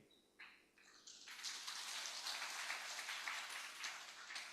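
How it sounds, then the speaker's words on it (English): An audience in a conference hall gives sustained applause to welcome delegates at an international radiological technologists conference, starting with a few scattered claps and swelling into steady, fairly distant clapping that holds for several seconds. "please give applause to welcome all of the delegates."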